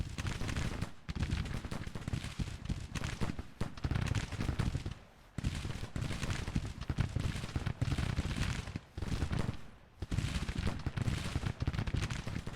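Civil War brigades trade dense rifle volleys in Grand Tactician, a continuous rolling crackle of musketry that surges and dips, with brief near-silent gaps between bursts.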